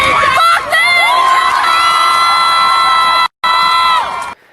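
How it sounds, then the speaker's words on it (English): A large crowd at a protest in London roars, cheers and whoops in sustained, loud waves with shouting voices layered throughout, broken by one abrupt brief gap before the noise resumes and fades out. "This is the crowd in London."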